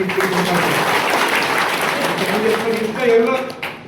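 A crowd at a Mumbai mill workers' gathering claps for Comrade Vijay Kulkarni. The steady applause runs throughout, and a voice continues over it.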